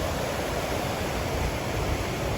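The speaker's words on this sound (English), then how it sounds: "Water's rushing today." Fast-flowing water rushes beside a Pacific Crest Trail path near Warner Springs, a loud, broadband roar that stays steady and unbroken throughout.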